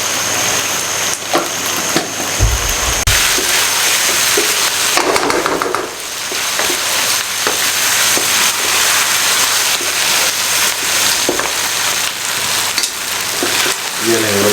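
Chicken 65 frying in a pan over high heat, giving a loud, dense, steady sizzle with crackling pops throughout.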